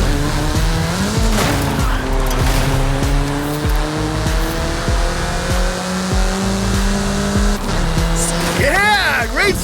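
In Forza Horizon 5, a race car speeds along a countryside road with its engine rising and falling through gear changes, and tires squeal sharply at the end as it slides through a corner.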